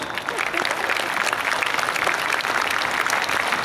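Loud, dense audience applause at a Hindi poetry recital (kavi sammelan), sustained clapping from a large crowd that fills the whole stretch evenly.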